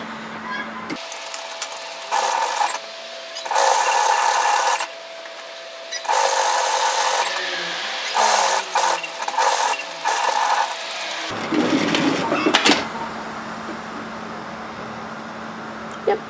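Sewing machine edge stitching a shacket garment, running in several loud bursts of rapid whirring stitches separated by short pauses, close by.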